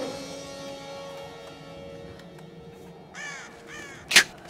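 A crow caws twice in the Tomb Raider (2013) video game, fairly clear over a low ambient game hum, followed by a sharp louder burst at the end.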